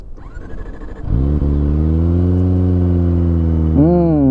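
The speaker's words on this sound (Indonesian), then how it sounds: "Yes, kita nyalakan mesinnya." A Kawasaki Ninja ZX-25R motorcycle with a Japanese-made WRS racing exhaust starts after a brief whir, then idles loud and steady with a deep, rumbling exhaust before a short rev at the end.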